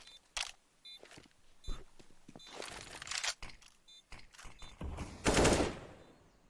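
Counter-Strike match on Inferno with rifle fire in bursts: several sharp gunshot volleys and rapid shots spread across the moment, some closer and louder, the last burst the strongest, with no talk.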